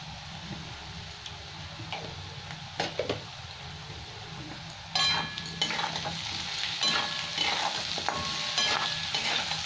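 Potatoes fry in a pan with turmeric and salt, a steady low sizzle with occasional stirring clatter, growing louder and busier partway through.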